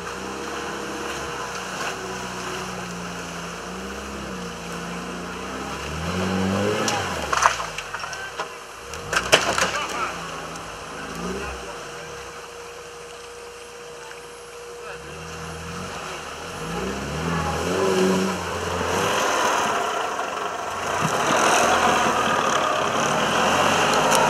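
An off-road rally vehicle at the Ladoga Trophy 2019 roars with a loud, shifting engine whose revs climb and fall, and clattering knocks come midway and late.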